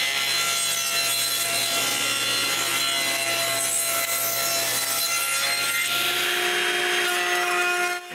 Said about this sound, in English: I begin by cutting square strips in any scrap wood I can find lying around.